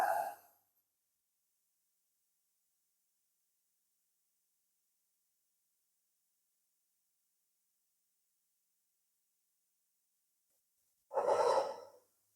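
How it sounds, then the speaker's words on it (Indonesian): A person draws breath through the nose during a face yoga exercise, mouth closed and cheeks puffed. Two short, close breaths open and close the clip, separated by a long stretch of near silence. "kita tarik nafas dari hidung, kemudian mulut ditutup hingga pipi ini mengembang"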